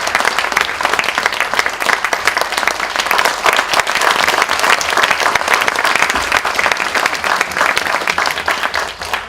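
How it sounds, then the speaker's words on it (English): An indoor audience applauds steadily at a talk honouring a cotton handloom teacher, a dense, even wash of clapping hands sustained for the full span with no speech over it. "She needs a big round of applause"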